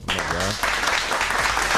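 A short burst of dense hand clapping from a few people fills the space at close range, with a voice speaking over it at the start.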